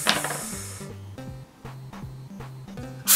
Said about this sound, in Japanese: プシュッっていう音とブルッって音がしましたね。